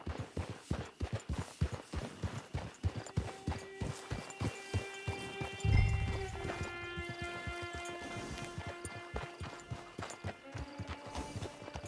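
Horse hooves clip-clop steadily on the ground in Red Dead Redemption 2, an even rhythm of close hoofbeats throughout, with a soft thump midway and tonal background music rising under the gait.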